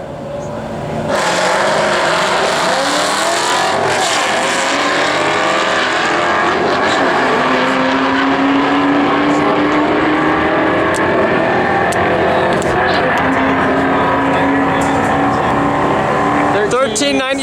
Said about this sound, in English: Now pay attention and listen to how fast these shifts are in the Bullet.